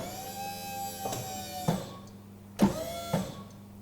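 An electric power clamp on a drum tipper closing onto a drum, a quiet motor whine followed by several distinct clunks as the pads grip, heard nearby with no talk.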